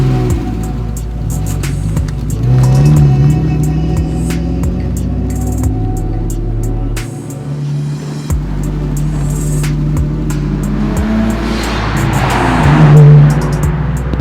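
Toyota Cressida engine with lifter tick runs and revs steadily, loud and close, a continuous car drone with fine ticking clicks over it and a brief dip midway.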